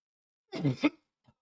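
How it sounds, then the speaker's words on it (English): One person lets out a short double cough, close and brief, followed by silence and a faint small sound, at a football playoff watch party. "Now that he's coughing."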